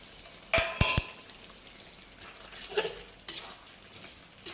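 Fried potatoes tipped into a pan of curry-leaf chicken curry and stirred, giving a few sharp clinks of a spoon against the pan followed by soft, scattered scraping and stirring sounds at moderate distance, with no talking.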